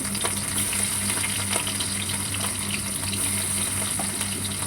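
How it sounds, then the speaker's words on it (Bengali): Tangra fish fry in hot oil with a dense, even crackle of sizzling that runs steadily from start to finish at a moderate level. No voices are heard. "মাছটা ভেজে তুলে নিয়ে তারপরে ঝোলটা বসাবো"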